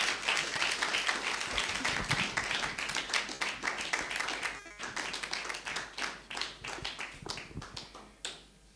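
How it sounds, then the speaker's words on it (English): Audience clapping for a chairperson at a memorial service and fundraiser, lively sustained applause with sharp individual claps close by, continuing for several seconds before thinning out near the end. "Clap for him."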